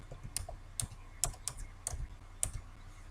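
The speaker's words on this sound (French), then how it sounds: "il faut appuyer sur le clavier, la touche Tab" Keys clack on a computer keyboard, including presses of the Tab key: about six crisp, separate clicks spaced irregularly over a few seconds in a quiet room.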